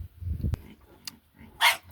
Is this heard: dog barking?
yes